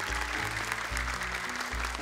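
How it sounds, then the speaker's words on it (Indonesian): An audience applauds on a televised Indonesian Quran memorization talent show, soft clapping running under a prominent low, rhythmic musical backing. "tepuk tangan, semua benar"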